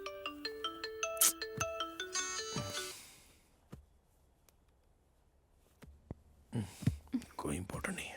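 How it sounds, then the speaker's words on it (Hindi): A mobile phone rings with a bright, repeating melodic ringtone for about three seconds and then cuts off, leaving a quiet stretch before soft voices and movement return near the end. "किसका फोन आ रहा है"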